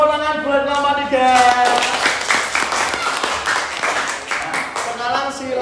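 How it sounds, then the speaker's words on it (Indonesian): Students clapping for a group in a classroom lesson, a steady patter of applause that swells after a teacher's speaking voice and fades as the voice returns. "beri tepuk tangan buat kelompok 3"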